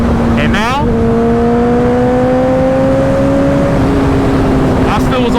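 A Honda motorcycle engine pulls at light throttle, roughly fifteen percent, its steady tone climbing slowly as it accelerates, loud and close under constant wind rush, with short bursts of other noise at the start and end.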